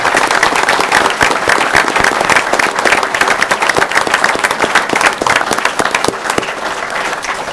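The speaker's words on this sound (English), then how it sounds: "Please give them a round of applause" Loud, dense applause from an audience honoring police officers at a council meeting, steady sustained clapping with sharp individual claps standing out throughout.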